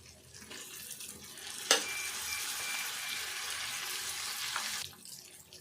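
Tomato pieces fry in a pan, a sudden burst of hissing sizzle as they hit the oil, then a steady loud sizzle with stirring before it drops away.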